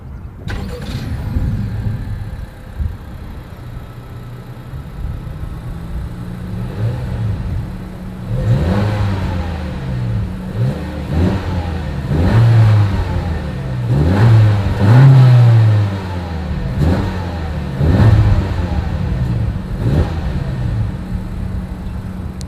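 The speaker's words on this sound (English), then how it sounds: "As always, here is that exhaust clip." A 2020 Honda Civic sedan's exhaust from behind the car, a steady low idle rising into several repeated revs with quick throttle blips and falling back, close and fairly loud with no talking.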